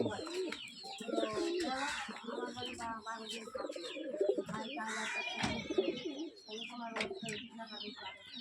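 A Fulshira tippler pigeon coos amid a busy loft, its low calls tangled with other birds' chirps and clucking-like calls, dense and close, with brief gaps and bursts throughout.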